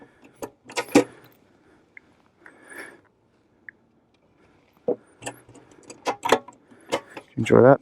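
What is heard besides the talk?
keys jangling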